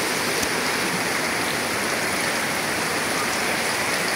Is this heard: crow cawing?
no